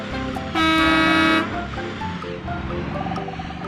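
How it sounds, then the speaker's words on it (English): Cartoon school bus horn giving one loud, sustained honk of almost a second, set against busy background music. "School bus."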